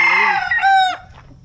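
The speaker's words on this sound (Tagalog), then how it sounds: "Di ba manok?" A rooster crows once nearby, a loud rising-and-falling call standing alone on a quiet rural path.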